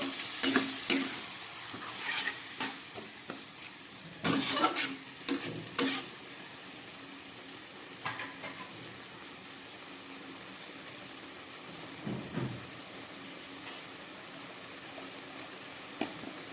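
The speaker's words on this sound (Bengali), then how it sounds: "একটু মশলার জল দিয়ে দিচ্ছি আরো ভালো করে কষাবার জন্য" Chicken stir-frying with spiced water in a pan, with a low steady simmering hiss and repeated sharp scraping and stirring clatters of a spatula, close and alone.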